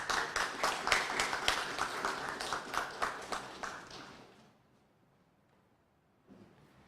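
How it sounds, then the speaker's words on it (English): An audience applauds the Speaker of the House of Assembly at a youth press briefing in Dominica, a steady burst of close clapping for about four seconds that fades into near silence, then a faint stir at the end. "Let's give him a round of applause again, ladies and gentlemen."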